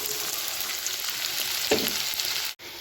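Chopped onion sizzles in hot oil in a kadai for egg fry, a dense, even hiss with one brief scraping stir near the end before a short cut-off.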